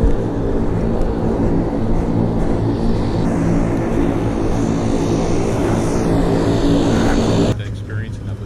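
Steady, loud propeller-airplane drone in flight departing Iqaluit in the Arctic, a constant low hum that runs unbroken before dropping off sharply near the end.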